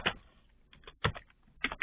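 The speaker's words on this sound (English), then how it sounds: "I'm going to just answer these by typing this" Light typing on a computer keyboard: scattered soft key clicks in small irregular clusters, close and quiet, with no voice.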